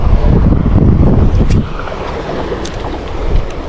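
Wind gusting over a trout fishing lake, loud rushing buffeting that is heaviest at first and then eases into a softer steady blow with faint small clicks.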